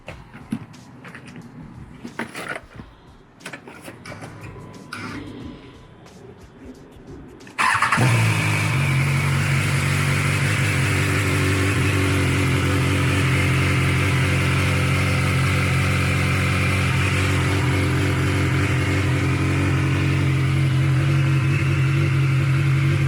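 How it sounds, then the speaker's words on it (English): Quiet background with some handling noises, then a BMW S1000XR motorcycle engine abruptly starts and settles into a steady, loud idle that continues to the end. "Let's turn the bike on."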